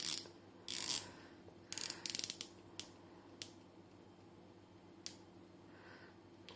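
Bezel of a Casio Duro MDV106 dive watch being turned, giving short scattered ratcheting clicks and bursts of close, quiet clicking with pauses between, alone over a low background hum.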